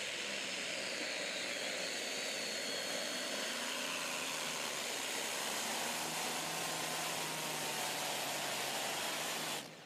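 A tractor-pulling engine roars loud and steady at a motorsport pull, a dense, continuous broadband blare with a slowly shifting low drone, holding for about ten seconds before cutting off at the end.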